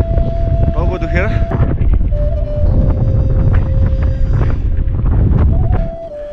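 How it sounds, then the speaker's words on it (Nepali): Strong, cold wind blows steadily and close on a mountain trail near Chergori peak in Langtang, a continuous roaring rush through nearly the whole clip that drops away at the very end. "एकदमै हावा सिरोटो हानिरहेछ"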